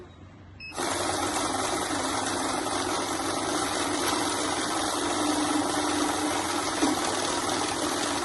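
Automatic cash counting machine running through mixed banknotes, a steady, dense mechanical whir with rapid fluttering that starts abruptly after a short quiet moment and continues evenly.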